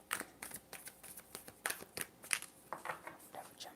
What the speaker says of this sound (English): Let me shuffle again